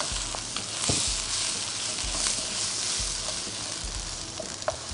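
Chicken and papaya sizzle and hiss while stir-frying in a hot pan, with occasional scraping and clinks of a utensil stirring, close and fairly quiet.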